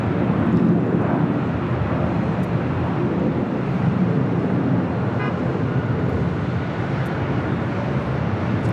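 ANA Boeing 787-8 Dreamliner jet at LAX, a steady broad engine roar that stays constant and fairly loud throughout, with no voices.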